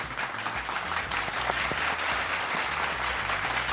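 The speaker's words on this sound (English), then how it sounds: "Round of applause for Yetchan." An audience claps in steady, dense applause at an afternoon church gathering after a game, loud and continuous throughout with no talk over it.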